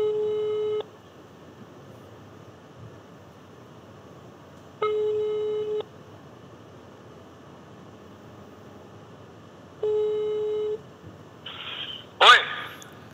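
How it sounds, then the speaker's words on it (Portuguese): Three long, even ringback tones spaced about five seconds apart play over a quiet background as a Brazilian talk show places a phone call, ending in a brief crackle as the line connects. "Estamos ligando pra Chiru do Sul, hein?"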